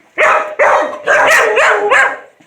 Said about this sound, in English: you'll have to forgive the dogs behind me